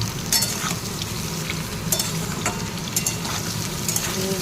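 Ridge gourd and potatoes sizzle and fry steadily in a pan, with a dense, even crackle and occasional sharper stirring scrapes close by, no talking.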